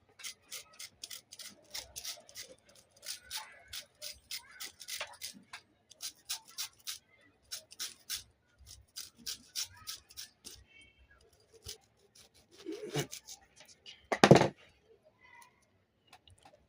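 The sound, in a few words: grating zest from a lemon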